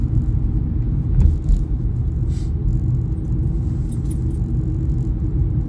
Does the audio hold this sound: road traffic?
yes